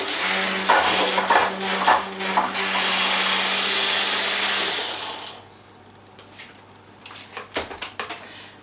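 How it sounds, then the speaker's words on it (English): Meringue whisked very quickly with an electric mixer after the remaining sugar is tipped in, a loud steady whirring with a constant hum for about five seconds, then it stops, followed by quieter clatter and handling noises. "So I'm going to tip that in and just whisk it very, very quickly."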